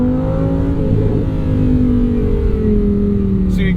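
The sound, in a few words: 2023 Lamborghini Huracan Sterrato accelerating out of a corner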